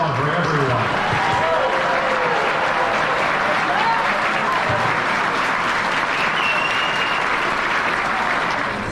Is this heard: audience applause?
yes